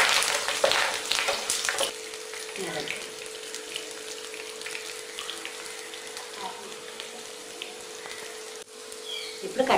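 Dry red chillies, peeled garlic and curry leaves sizzle and fry in hot oil in a pan, a steady crackling hiss with a burst of louder spitting at the start.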